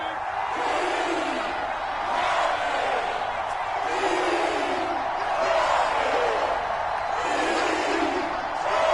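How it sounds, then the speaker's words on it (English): A stadium crowd roars in a football video game, a continuous dense wash of cheering that swells in waves, loud and steady throughout. "the crowd getting into it as we come up on a big 3rd down"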